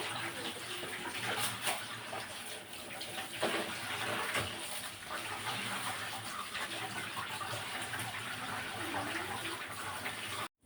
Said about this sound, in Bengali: চালগুলো আমি এখন কিন্তু ধুয়ে নিব আর তো চালগুলো ধুয়ে নিচ্ছিলাম চালগুলো একদম পরিষ্কার করে দিতে হবে